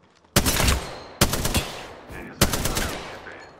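Gunfire in the Apex Legends video game, three loud bursts of rapid shots each a second or so apart, each trailing off briefly before the next.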